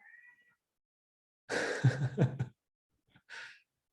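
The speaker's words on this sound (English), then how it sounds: "my cat is saying that it's almost 7" A domestic cat meows twice, a short faint call at the start and then a longer, louder, breathy meow mid-clip, followed by a brief softer meow near the end, in an otherwise quiet room.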